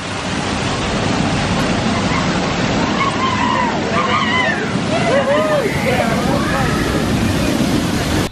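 Water feature at SeaWorld Orlando splashing and sloshing in a continuous wash, with crowd chatter and voices mixed into the steady spray.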